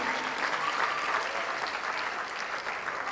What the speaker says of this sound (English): So let's clap it up for Mr. Luis Cabarro.